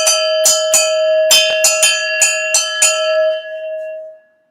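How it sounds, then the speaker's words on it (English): A cowbell at a loud redneck music jam is struck about eight times in a quick, uneven rhythm, each hit bright and ringing, before the tone fades out alone. "he needs a little bit more cowbell"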